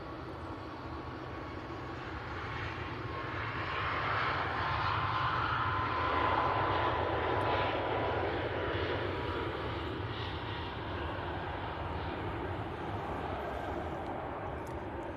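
A Ryanair airliner on its takeoff roll at Manchester Airport, bound for Tenerife, with a broad engine roar that swells over several seconds, peaks midway, then eases while a faint high whine briefly shows.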